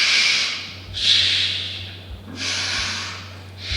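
A person vocally imitates a loud ventilator breathing machine, with rhythmic hissing breath bursts that rise and fall in cycles, close and fairly loud, over a low steady hum.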